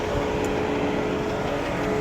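Car engine with a knocking noise like a worn connecting rod, heard as a steady, close idle drone with a faint repetitive knock running underneath.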